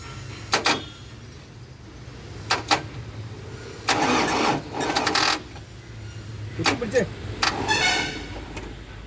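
An Eicher 10.70 truck diesel engine cold-starts, cranked using a crane, in several short bursts, sputtering and catching briefly between pauses, with a few clunks nearby.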